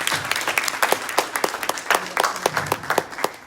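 A room of people applauds a chronic kidney disease prevention panel with uneven, fairly close clapping, individual claps standing out in a loose rhythm.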